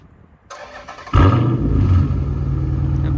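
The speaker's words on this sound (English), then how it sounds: "I'm gonna go ahead and do a little startup for y'all boys" A Chrysler 300 SRT8 with a 392 V8 cranks briefly and fires into a loud, deep burbling idle after a short starter whir, running close and steady on a warm start.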